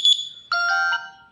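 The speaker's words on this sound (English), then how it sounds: "One of the popular OnePlus tone is this." A short OnePlus phone notification tone: two quick high electronic chirps, then a brief bright chime of layered tones that fades out, clear and alone.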